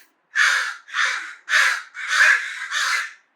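Five loud, harsh caws from a nearby raven, each drawn out, spaced about half a second apart.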